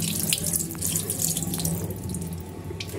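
Tap water runs steadily into a sink while Kashmiri paneer dough is washed under it, a continuous close splashing hiss with no talk.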